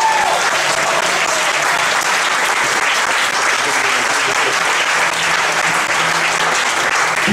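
A church congregation applauds loudly and continuously, the dense clapping of a large crowd filling the room steadily throughout.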